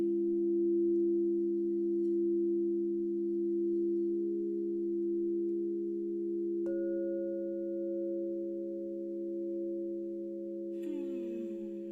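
Crystal singing bowls ringing in a sound healing bath, sustained pure tones layered and droning steadily, with a new higher tone struck partway through and a faint shimmering strike near the end, calm and alone without speech.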